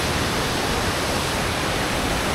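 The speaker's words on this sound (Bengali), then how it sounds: "বিউটিফুল ঝর্ণা মাশাআল্লাহ, পুরো ডার্কেস্ট কালারের পানি" A waterfall in Montenegro pours its dark water in a dense, steady, unbroken roar that fills the whole brief stretch, loud and close, with no voices.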